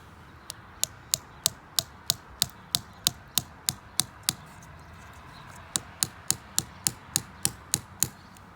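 Steady, rapid hammer strikes tapping a metal spile into a maple tree trunk in a backyard, about two dozen sharp blows with a short pause midway, close and fairly loud, no talking.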